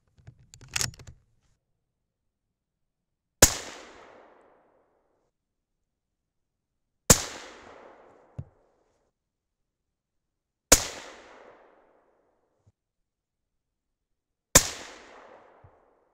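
Four 6.5 Creedmoor rifle shots fired with H4350 powder loads, each a sharp loud crack with a decaying echo tail, spaced a few seconds apart, with a faint click and some handling noise before the first shot.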